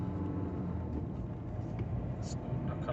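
A Skoda Fabia 1.6 TDI diesel with a clogged particulate filter and little power accelerates at full throttle, giving a steady, low, droning engine rumble heard from inside the car.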